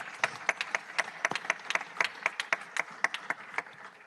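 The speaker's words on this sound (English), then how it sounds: "Let's give them applause." A few people clapping at a committee meeting, a sparse, steady patter of individual claps that stays moderately quiet throughout, with no talk over it.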